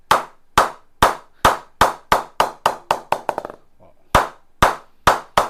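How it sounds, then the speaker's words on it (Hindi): Sharp hollow wooden knocks on a hardwood, round-handled cricket bat, struck repeatedly at a steady pace, then a quick flurry of rapid taps, a short pause, and more evenly spaced knocks. "आवाज सुनो बैट की"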